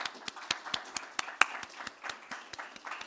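Audience clapping for the speakers at the close of a developer summit, a sparse, fairly quiet patter of separate hand claps that comes in irregular bursts, with no voices over it.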